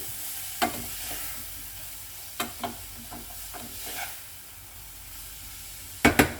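Leeks sizzling softly in a pan for a vegetable tart, a faint steady frying hiss broken by occasional stirring clicks and utensil knocks, close with no talk.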